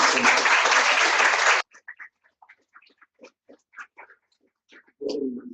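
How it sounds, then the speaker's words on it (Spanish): Loud, dense applause from an audience thanking a priest, sustained for about a second and a half before cutting off, followed by faint scattered sounds and low murmuring voices. "les pido que en señal de agradecimiento le demos un fuerte aplauso al Padre"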